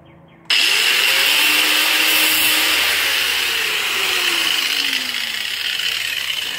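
A power tool whines loudly and steadily while smoothing off a plastic barrel canoe during a rebuild, starting abruptly after a quiet moment and holding a sustained grinding drone with shifting pitch.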